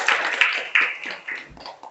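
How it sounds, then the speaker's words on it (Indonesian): Schoolchildren in a physical education class applauding a classmate, a brief burst of bright, irregular clapping from a group that fades after a couple of seconds. "Ya, kasih tepuk tangan untuk Jidni."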